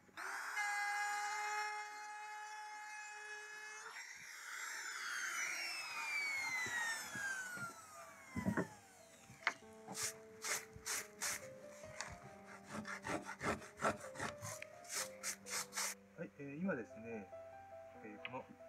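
A 6 mm router bit cuts a groove in plywood: a loud, steady, high-pitched motor whine that then winds down in pitch, followed by a series of rhythmic, rasping strokes against the wood.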